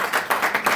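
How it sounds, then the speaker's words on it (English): A small audience at an indoor book launch claps in brief, rhythmic bursts, a short patter of hands that swells and fades over less than a second. "so let's clap to those"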